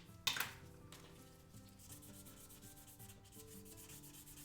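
Small spoons for a garage kit figure being sanded by hand, giving a soft, steady rubbing and scraping texture after a brief sharp contact noise at the start, close and quiet.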